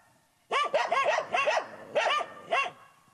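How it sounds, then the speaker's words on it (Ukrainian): Guard dogs watching over the grounds of a heating plant bark in a run of five or six loud, close, evenly spaced barks after a brief quiet start. "Територію охороняють собаки."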